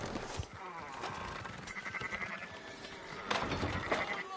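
Sheep bleat several times in the video game Red Dead Redemption 2, wavering calls overlapping with clattering and background game noise.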